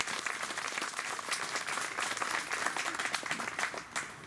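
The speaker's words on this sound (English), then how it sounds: "You give them an applause." An audience at a Yorktown Victory Day ceremony claps in a dense, continuous round of applause. It sounds moderately distant and fairly soft, with no talk over it.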